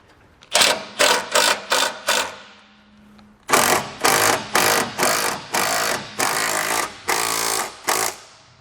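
Bolts on a MORryde RotopaX mount on a 2013 Jeep Wrangler JK are tightened with a power tool, a run of short rattling bursts, five quick ones, a pause, then about eight more, close and loud.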